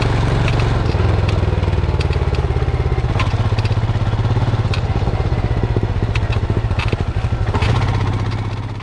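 A 2021 Royal Enfield Himalayan motorcycle engine idling close by with a steady, low thumping single-cylinder rhythm and some mechanical clatter, running continuously on its own.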